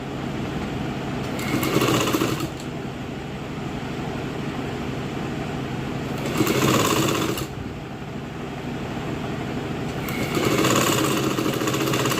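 A sewing machine runs continuously while stitching a frill onto a dress, with a steady mechanical whir that swells louder three times, and no talking.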